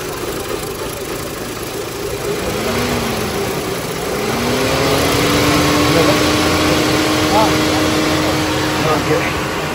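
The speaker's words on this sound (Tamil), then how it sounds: "இன்ஜின் சவுண்டு ஓகே தான்." A used car's engine idles steadily after a push-button start, a continuous mid-pitched hum that grows slightly louder partway through, with people talking over it nearby.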